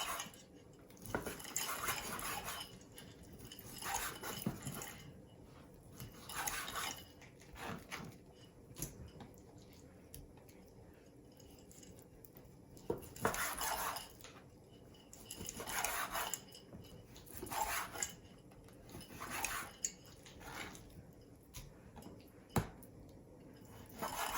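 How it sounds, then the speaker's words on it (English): A knife saws steak into chunks on a board, with repeated short scraping cuts and taps spread through the stretch at close range, with no talking. "I'm gonna continue and go right ahead and keep on cutting these in chunks."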